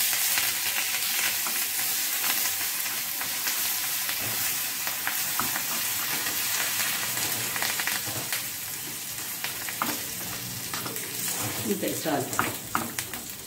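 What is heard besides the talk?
curry leaves added to frying cumin, mustard seeds and peanuts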